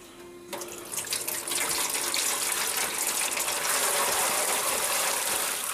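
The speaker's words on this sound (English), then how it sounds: "I do not shut my spigot off, I just let it run" Steady stream of water from a homebrew spigot splashing into a pitcher, starting after a brief quieter moment and then running continuously and fairly loud, with occasional faint clinks.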